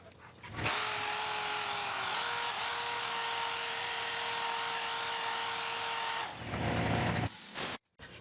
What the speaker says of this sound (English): now I've got a 60 grit flap sander on the end of a 12-inch extension